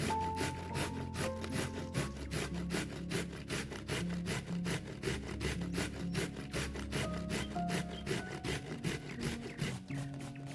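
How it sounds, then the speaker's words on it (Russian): Zucchini are rubbed against a coarse kitchen grater in quick, regular rasping strokes, a dense steady scraping rhythm at close range with no voices. "А мы с вами натираем кабачки на крупной терке"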